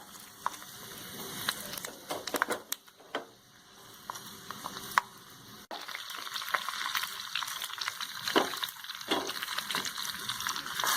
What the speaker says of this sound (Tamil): வெந்தயம் போட்டு தாளிக்கிறோம்